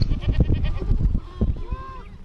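A herd of goats bleats near the Rio Grande in a quick run of loud, overlapping wavering calls, several animals crying close together with a few brief pauses.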